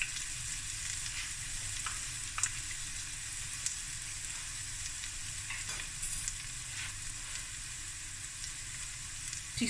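Garlic and green chili frying in a hot pan, a steady dense sizzle with scattered small pops and crackles throughout, fairly close and continuous, with no talking.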